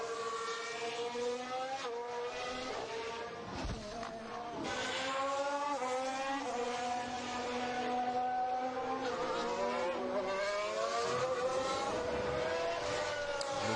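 Formula 1 cars during a Spanish Grand Prix practice session, engines whining as they pass, rising and falling in pitch, with a sharp drop and then a loud sustained high-revving scream, heard alone.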